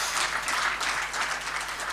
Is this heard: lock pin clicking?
no